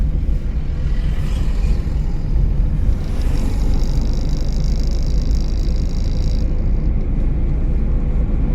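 A car engine revs during a driving lesson with the driver building throttle: a steady, fairly loud low rumble that continues for the whole stretch with no talking.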